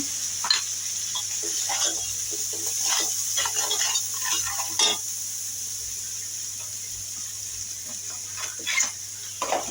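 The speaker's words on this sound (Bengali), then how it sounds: "এখন মশলাটাকে ভালোভাবে কষিয়ে নেব।" Chilli powder, coriander powder and salt masala sizzle in a pan for chicken roast, with repeated scraping stir strokes over constant frying hiss and a low steady hum, close up and without speech.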